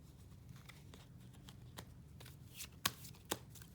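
Tarot cards being shuffled by hand, a soft, faint papery riffling with a few sharper card snaps near the end, heard alone without talk.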